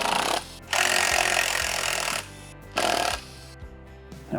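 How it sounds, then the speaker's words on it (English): A 10 mm socket on a tool removes the bolts holding Baja Designs LP6 DOT headlights. Three loud bursts of whirring, grinding tool noise are separated by brief pauses, close up. "it's a 10 mil socket, and you have 3 bolts to remove to get the headlights out"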